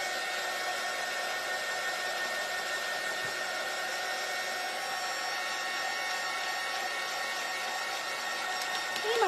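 A hair dryer blows continuously at close range to dry craft kit hearts, a steady loud whooshing drone with no break across the whole span.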